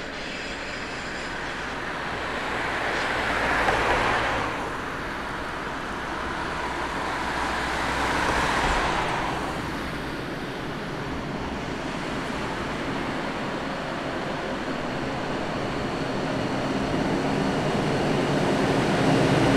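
A vintage Deutsche Bundesbahn locomotive hauling a regional passenger train toward Donauwörth in the Ries, Bavaria, rumbles past at a steady distance, its noise swelling twice and then settling into a continuous roll.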